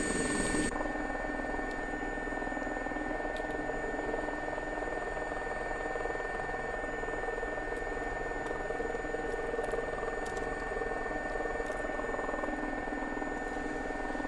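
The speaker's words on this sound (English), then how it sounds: "It's a great helicopter to fly in this sim." A Gazelle helicopter engine and rotor in X-Plane 11 make a steady droning whine with a constant high tone, loud at first and then settling into an even hum with faint clicks.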